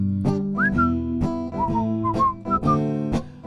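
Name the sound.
person whistling a tune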